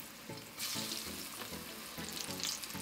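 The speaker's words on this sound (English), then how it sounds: "once that grease is hot enough to start frying, go ahead and throw your fishless bites" Vegan fishless catfish nuggets go into hot frying grease, and a loud, bright sizzle breaks out partway through. Soft stirring and clinks follow as the frying crackles close up, with no talking.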